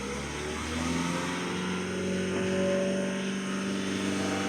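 The engine of a Ford Tourneo Connect with a DPF fault is held at about 3000 RPM, a loud, steady, close-up drone with a faint rise in pitch partway through and no voices over it.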